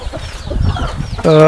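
Free-range hens cluck in a poultry shed roofed with a cement sheet, low chatter and a voice first, then one loud, drawn-out hen call rising sharply at the end.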